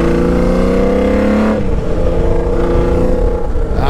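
A 1982 Honda CBX 1050 six-cylinder motorcycle engine with an Atalla 6-into-1 exhaust, loud and close, holding a smooth high rev before dropping into a rough, throbbing lower rumble.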